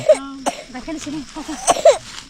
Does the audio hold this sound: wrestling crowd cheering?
no